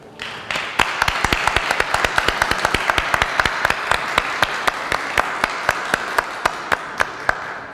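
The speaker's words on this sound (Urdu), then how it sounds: "تو آئیں سب سے پہلے ہم اپنے لیے ایک زوردار تالی بجائیں." Loud applause at a Women's Day celebration in Amersfoort, Netherlands, with a crowd clapping steadily and increasingly in unison, sharp regular claps standing out over the dense background as the ovation continues.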